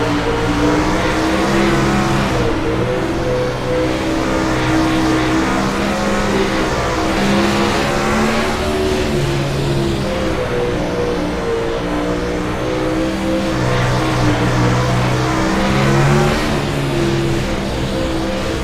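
Winged sprint cars race on a dirt oval track, a dense sustained engine roar with rising and falling revs as cars pass, loud and continuous throughout with no talk.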